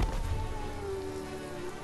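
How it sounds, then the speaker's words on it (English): Rain falls steadily in the video game Biomutant, a dense hiss with low rumble that stays even from start to finish without speech. "Hope you enjoy the rain."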